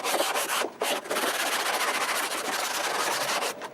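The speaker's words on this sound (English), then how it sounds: "I sanded down the surfaces" Wood surfaces of a homemade table saw fence being sanded, a close, continuous rough rubbing with short pauses between strokes.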